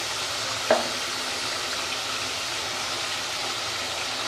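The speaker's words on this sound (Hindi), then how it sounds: "अब मैं इसमें डालूंगी नमक और चम्मच चला दूंगी" Meat for saag gosht sizzles steadily in a pan with salt and spices, a constant frying hiss with one faint clink of a spoon near the start.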